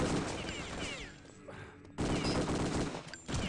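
Dense gunfire from Return to Castle Wolfenstein during a 3-on-3 match, loud rapid bursts of shots filling the mix, dropping briefly to quieter scattered shots before a sharp return to heavy continuous firing.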